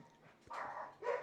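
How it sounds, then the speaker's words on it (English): A household dog barking at the mailman, two short sharp barks heard somewhat faintly from indoors, with a brief pause between them. "That's our mailman. Our dog's barking."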